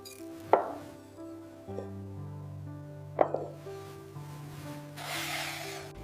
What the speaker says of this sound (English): Pilaw often includes meat, cut carefully by hand.